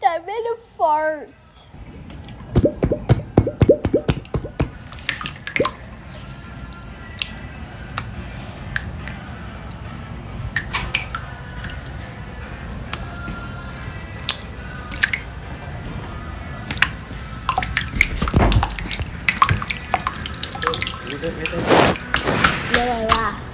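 Slime is squished, stretched and pulled apart in one piece, making a steady run of wet clicks, pops and squelches close up, with bursts of denser sticky crackling toward the end.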